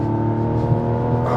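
Engine of a 2024 Mazda CX-90 three-row SUV revving on a paddle downshift, a steady harmonic drone held close and fairly loud for the whole moment, with no talk over it.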